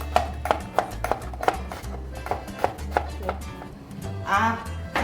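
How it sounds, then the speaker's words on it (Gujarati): Bottle gourd is chopped in a home kitchen vegetable cutter, giving a steady run of crisp, evenly spaced chopping knocks close up over a low background hum, with no talking. "મારા કટરમાં કટિંગ કરતા વાર નથી લાગતી."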